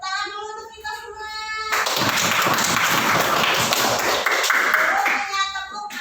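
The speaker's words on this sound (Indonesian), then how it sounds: "Tepuk tangan dulu untuk kita semua." A classroom group claps hands together, a loud dense burst of applause from children lasting several seconds before fading, with a teacher's voice just before it.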